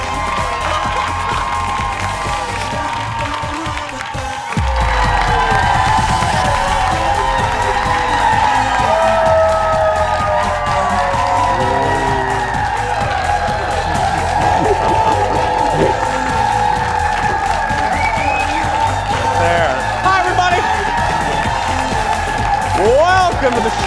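A live studio audience cheers and applauds loudly and steadily, swelling after a brief quieter moment and holding as a sustained crowd roar with whoops.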